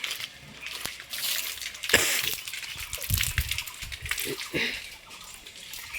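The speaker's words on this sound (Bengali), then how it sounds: "চলো একটু দেখিয়ে দিই আমাদের কলের জল দেখতেই পাচ্ছ জল পড়ছে" Tap water runs from an outdoor faucet meant for outside chores, a continuous close splashing gush with uneven surges and drips, no talk.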